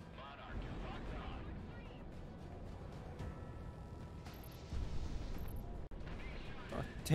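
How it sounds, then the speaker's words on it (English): An MLRS rocket artillery vehicle in a VR combat game fires, producing rumbling low booms and crackling blasts under continuous speech, with a sharper burst near the end. "Damn, this MLRS is great."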